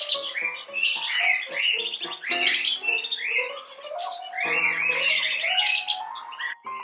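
Several birds squawk and chirp in a busy, overlapping chorus, loud and close, with no one talking.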